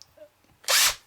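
Makita cordless battery drill revving briefly on high while working on a Fender guitar bridge block, a short loud whir of under half a second after a few faint clicks.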